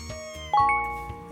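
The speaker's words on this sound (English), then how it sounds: "cat, cat." A short cartoon-style cat meow rises over soft chiming, tinkly music in a children's alphabet lesson, with no voices over it.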